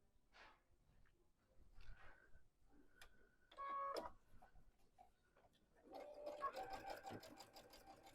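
A domestic sewing machine runs in short bursts while stitching quilt binding with the needle set to a quarter inch, quiet and close, with small clicks and handling noises between runs.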